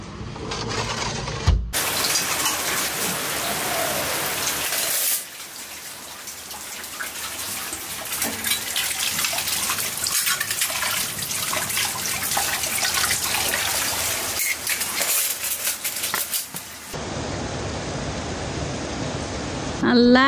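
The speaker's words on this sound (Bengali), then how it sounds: "এদিকে ভালোই জোরে বৃষ্টি হচ্ছে" Heavy rain pours steadily outside an open window onto the ground below, a dense constant wash of hiss that runs throughout, briefly dropping out and changing character near the start and end.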